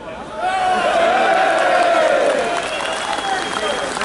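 A large crowd cheers and applauds at a London march, a sustained roar of voices swelling early and holding steady, with whoops rising out of the mass.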